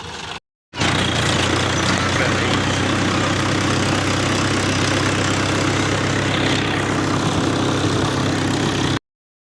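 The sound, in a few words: tractor engine running after being restarted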